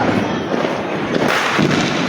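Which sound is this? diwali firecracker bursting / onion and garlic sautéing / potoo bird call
diwali firecracker bursting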